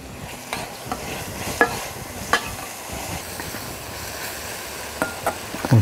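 Beef frying in a pan with turmeric and yellow curry powder, a continuous sizzle under repeated spoon scrapes and knocks as the meat is stirred, close up and with no talking.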